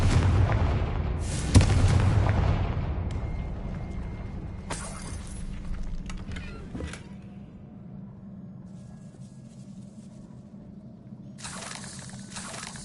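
Sudden, heavy blasts from the Confringo explosive spell in the Hogwarts Legacy video game ring out, each followed by rumbling debris and fading crackle, with a final burst near the end.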